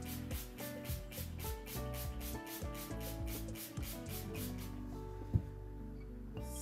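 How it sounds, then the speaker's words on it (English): A steady hissing spray of spray paint on a tumbler runs for several seconds in pulsing bursts, then cuts off, with tonal music playing underneath throughout. "So I'm going to spray my section again."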